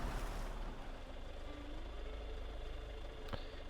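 A heavy truck driving in a video game, its engine giving a steady, continuous drone at moderate volume throughout, with a brief sharp click near the end and no talk.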